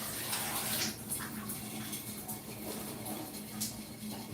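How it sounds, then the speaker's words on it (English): Shower water running into a bathtub to wet it before scrubbing, a steady broad hiss of spray that stays constant throughout, with a washing machine going somewhere in the background. "I'm running the shower so that my tub can get wet so I can go ahead and scrub it down."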